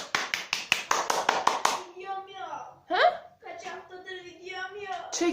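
One person claps about nine times in a quick, steady burst at close range, then stops as people start talking.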